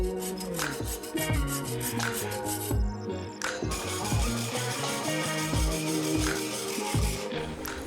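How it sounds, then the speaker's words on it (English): A file rasping over the teeth of a steel sawblade, skating rather than biting, with repeated scraping strokes and thumps, busy and close with a bright metallic edge. "Now here you can hear how the file just skates over the teeth, kind of."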